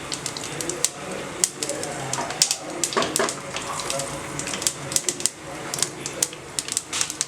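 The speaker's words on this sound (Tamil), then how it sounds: "கடுகு நல்லா பொரியட்டும்." Mustard seeds popping and crackling in hot oil with fenugreek while cooking fish kulambu, sharp irregular pops over a steady sizzle, close by, with a voice talking under them.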